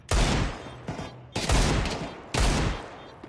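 Rapid Desert Eagle pistol shots in a Counter-Strike pro match, three loud, sharp bursts spaced about a second apart, each with a booming tail.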